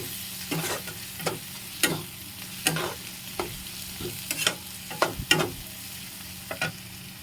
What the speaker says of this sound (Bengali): এরপর দিয়ে দিচ্ছি জিরে, ধনে, কাশ্মীরি লঙ্কা দিয়ে আবার একটু নাড়লাম